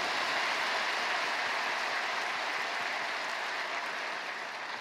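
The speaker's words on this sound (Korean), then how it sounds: "감사의 박수 한번 주시기 바랍니다" Sustained applause from a church congregation during a Sunday morning worship service, a dense, steady wash of many hands clapping that holds evenly throughout and fades slightly near the end, with no talking.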